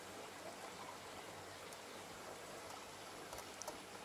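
Water splashes and trickles steadily inside an aquarium's top sump filter, partly muffled by a cotton filter pad placed over it, a constant close babble with a few brighter drips near the end and no talking.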